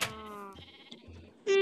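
Sheep bleat in the game Minecraft, a loud, wavering bleat at the start followed by a quieter one and then another sharp, loud bleat at the end, with faint game sounds between them.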